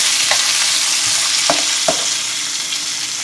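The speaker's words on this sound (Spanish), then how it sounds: "Vamos a moverle para que se integren todos los ingredientes." Potatoes, poblano chile and tomato stirred together in a sizzling pan, a loud close frying hiss with a few distinct spoon scrapes and knocks, no talking.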